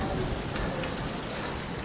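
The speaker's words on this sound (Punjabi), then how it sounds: "ਬਾਰਿਸ਼ ਬਹੁਤ ਜ਼ਿਆਦਾ ਐਨ ਬੜੀ ਸਾਡੇ ਪਈ ਹੈ ਇੱਥੇ" Heavy rain pours steadily near a cattle shed where buffaloes are tied, a dense, continuous hiss of drops hitting surfaces, loud and unbroken with no voices.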